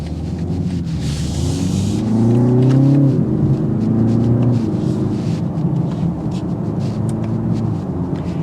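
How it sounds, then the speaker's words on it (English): A 2024 BMW 330 sedan's exhaust while driving, a low rumbling engine note that climbs as the car accelerates, then settles into a steady drone, close and fairly loud. "Even in comfort, I still hear some of the exhaust, so I like that."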